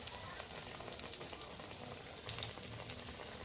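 Besan-coated potato chops frying in oil in a wok, a quiet continuous bubbling crackle with a few sharper pops near the end, no talk.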